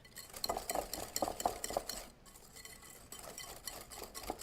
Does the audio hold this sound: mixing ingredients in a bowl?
yes